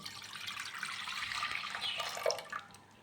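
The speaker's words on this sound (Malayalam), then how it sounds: "ഇതിലേക്ക് ഞാൻ കുറച്ച് പാൽ ഒഴിച്ച് വച്ചിട്ട്, ഇത്ര പാല് മതി, ബാക്കി ഞാൻ ഇതിലേക്ക് ഒഴിച്ചു കൊടുക്കുകയാണ്" Milk poured from a container into a pot while making custard for a fruit salad, a steady close liquid splashing stream that swells and gurgles before tapering off.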